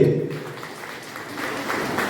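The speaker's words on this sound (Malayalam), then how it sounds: "നല്ലൊരു കൈയടി" Clapping from the audience for an honoured guest at a Malayalam memorial event for Mala Aravindan. It sounds moderate and steady across the short span and rises a little near the end, with no talk over it.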